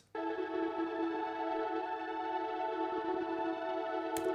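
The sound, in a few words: synth pad and arpeggiator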